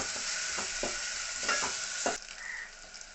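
Steady sizzling of onion paste frying in a pan, with a spoon scraping and stirring at irregular intervals; the frying quiets a little toward the end.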